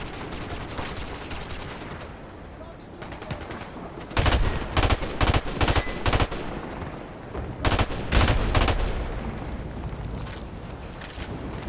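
Gunfire in the video game Call of Duty: Modern Warfare Remastered, with rapid bursts of sharp shots in clusters under a constant noisy background, some bursts close and punchy, others more distant.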